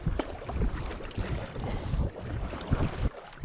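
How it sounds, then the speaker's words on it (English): A headwind blows across Cache Lake in Algonquin while a canoe is paddled, giving a steady rushing buffet of wind noise. Water sloshes faintly beneath it, and nobody speaks. "A little headwind here on Cache Lake."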